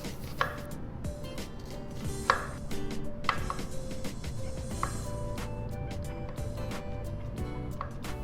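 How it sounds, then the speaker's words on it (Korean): A knife chopping onion, garlic and button mushrooms on a cutting board for a tteokbokki dish, sharp repeated close knocks in an uneven rhythm, loud and clear with no talking. "먼저 양파와 마늘, 양송이 버섯을 알맞은 크기로 썰어줍니다."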